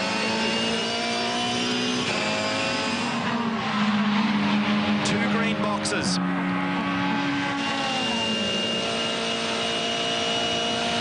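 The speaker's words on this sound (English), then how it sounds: "Different engine architecture with what's described as a flat plane crank. So you have a listen to the way this car sounds." Volvo V8 supercar with a flat-plane crank screams past at racing speed during the 2014 Bathurst 1000 shootout, engine note climbing and dropping through gear changes with a commentator talking over it.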